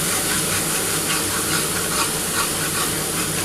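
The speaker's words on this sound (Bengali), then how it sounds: "এবার খুব ভালো করে মশলাটা কষাতে হবে।" Spice paste with red chilli powder is fried and stirred in oil in a pan for a spicy Bhola fish curry, making a loud, constant hissing sizzle with faint scraping of the stirring spoon and no speech.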